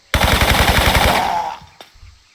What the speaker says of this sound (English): Did the gunfire not wake him up?